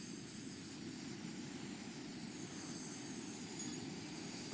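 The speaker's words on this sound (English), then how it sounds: "So I'm just gonna light my stove now." A Fire Maple camping gas stove burns with a low, steady, breathy roar that stays constant and fairly faint throughout, with no voices.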